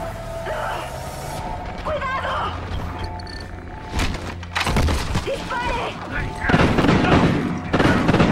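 Chaotic Call of Duty: Ghosts battle noise with bursts of gunfire, booms and crashes, layered over a steady hum and music, growing louder toward the end.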